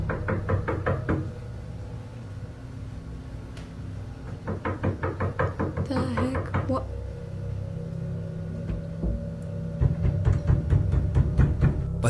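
Rapid bursts of knocking, as if on a door late at night, in a ghost recording: repeated quick raps in clusters separated by pauses, fairly loud, over a low rumbling background.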